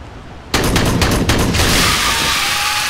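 An acid explosion in the Aliens: Colonial Marines multiplayer game bursts in loud and close, then a dense crackling roar of gunfire and blast noise fills the rest of the moment.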